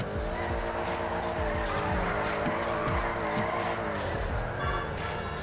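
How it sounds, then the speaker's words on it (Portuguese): Car drifting in GTA V with continuous loud tire squeal over a revving engine, sustained and close throughout. "Vamos lá mandar umas drifteiras bem maneiras pra ele aqui."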